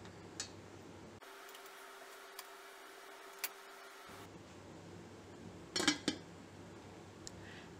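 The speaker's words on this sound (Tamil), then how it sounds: "கேக் கிண்ணத்தை அடுக்கி விட்டுருங்க" Cake bowls clinking softly against metal as they are set into a steamer, a few light taps and a brief cluster of clatter, faint and with no talking.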